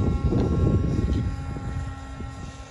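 A slightly damaged Phantom FX 61 FPV wing on a 4S battery flies at low throttle. Its electric motor and propeller make a continuous droning buzz that fades gradually, as if the wing is drifting away.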